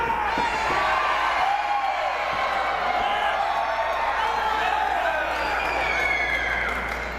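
Crowd at a Capital City Wrestling championship match, steady cheering and whooping from the audience at a continuous roar with no break.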